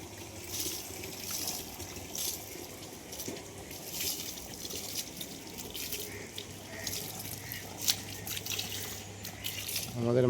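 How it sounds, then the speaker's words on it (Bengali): Water runs from a tap in a steady splashing stream at a household shrine while a roof is being washed, with faint voices in the background. "এই জল পড়ছে কলে।"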